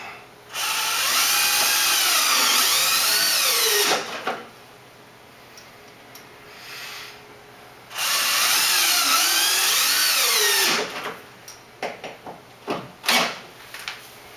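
A power drill whines in two long, loud bursts driving screws into a safe room locking bar, each run ending with a falling pitch, followed by clicks and knocks of handling the hardware.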